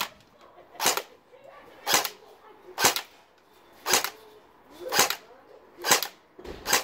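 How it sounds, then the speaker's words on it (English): MP 40 submachine gun fired in single shots, seven sharp, loud reports spaced about a second apart, each with a brief ringing tail and no talk. "Now, as we can see, we can shoot in single bullets."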